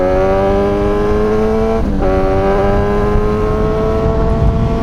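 A Suzuki GSX-S1000 motorcycle engine screams at high speed, loud and close, holding a steady high-revving tone with a brief dip in pitch partway through before climbing again.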